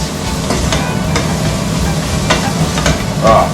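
Garlic and onion fry in a pan with a steady, loud sizzle that fills the whole stretch, broken by a few soft scrapes of stirring and a brief higher crackle at the end.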